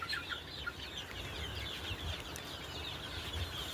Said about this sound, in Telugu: మేత కోసం వాళ్ళ దగ్గరికి వచ్చేస్తున్నాయి కోళ్ళన్నీ.